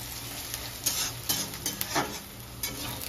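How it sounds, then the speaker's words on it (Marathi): Onion sautéing until pinkish in a pan, with a constant close sizzle and scattered light scrapes and clinks from the stirring utensil, no voices. "आपल्याला त्याला अजून थोडंसं भाजायचं, व्यवस्थित परतू द्यायचंय प्रॉपर"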